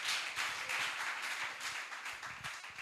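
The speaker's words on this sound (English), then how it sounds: "A round of applause for Mr." Audience clapping and applause at a Nigerian export business summit, a steady, moderately loud patter of many hands for a speaker taking the stage.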